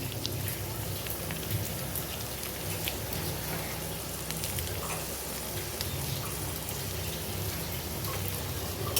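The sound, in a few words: ginger garlic paste frying in oil with onion and tomato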